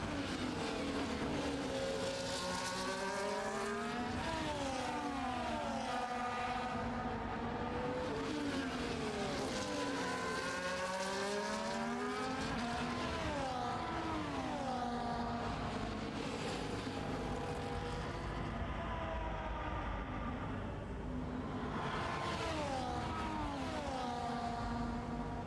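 Formula race cars circuit at Belgium, their engines whining and rising in pitch with repeated upshifts and downshifts, several cars passing in close succession with a steady, loud racing roar throughout.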